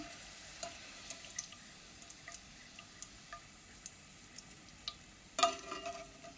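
Onions fry in oil with a soft, steady sizzle while a strainer lifts them out, leaving scattered small clicks and a brighter clatter near the end, close and fairly quiet, with no talking.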